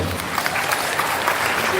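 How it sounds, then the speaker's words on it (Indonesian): An audience applauds Professor Dailami Firdaus, chair of the Asatiyah higher education foundation, with a brief burst of dense clapping that stays level, some crowd murmur mixed in. "Tepuk tangan untuk beliau"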